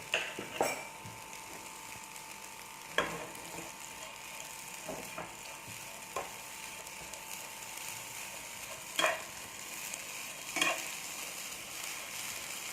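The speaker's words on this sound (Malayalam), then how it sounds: "കഴുകി വെച്ചിരിക്കുന്ന തലയൊക്കെ കളഞ്ഞ് വൃത്തിയാക്കിയ ചെമ്മീൻ ഞാൻ ഇതിലോട്ട് ഇടുകയാണ്" Cleaned, headless prawns frying in a pan for a Kerala-style chammanthi, giving a continuous close sizzle broken by sharp scrapes and clicks of stirring at irregular intervals.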